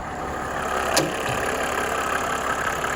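A 1995 Mercedes-Benz E300D diesel idles steadily, close by, with an even, smooth rumble after sitting unstarted for weeks, and one faint click near the start.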